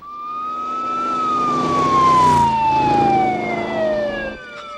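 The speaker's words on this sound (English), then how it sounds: "We need an ambulance up here right away." An emergency siren wails in a long descending sweep, loud and close, over traffic rumble in a Brooklyn street scene, fading slightly at the end.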